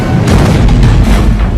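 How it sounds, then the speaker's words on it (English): A heavy, loud boom with rumbling sustain as 54-pound naval shells explode on the bridge of the warship Kumano during a sea battle, a dense blast filling the moment with no voices. "54-pound shells explode on Kumano's bridge"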